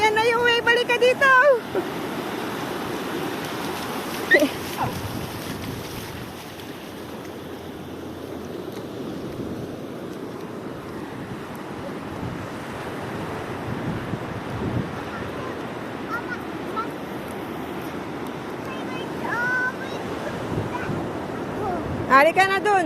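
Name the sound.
ocean waves at the beach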